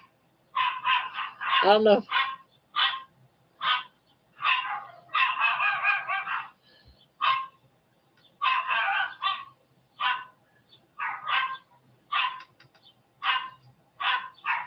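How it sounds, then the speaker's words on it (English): A dog barks outside behind the house in repeated sharp bursts. Most barks come fairly close and loud in an irregular rhythm, and a brief voice is heard between them. "That's not her. That's the dog out back."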